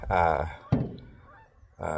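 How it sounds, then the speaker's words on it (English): Geese honk loudly and close by as they fly in outdoors, giving a few nasal calls broken by a dull thump. "geese coming in"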